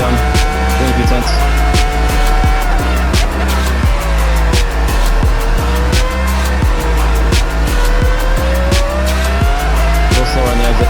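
A formula race car brakes hard and corners with a loud, screaming engine and squealing tires, downshifts stabbing rhythmically, close and intense the whole time.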